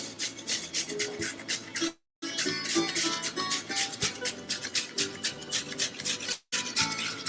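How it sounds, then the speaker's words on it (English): Rapid rhythmic rasping of cucumber being grated on the large holes of a kitchen grater, close and loud strokes in quick succession with two brief pauses, no talking. "I'm going to grate this cucumber on a large hole"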